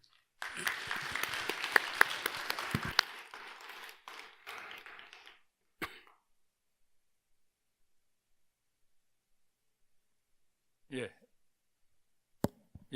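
An audience at an academic award ceremony claps for about five seconds, a dense burst of applause that thins into scattered claps, followed by silence and a brief voice.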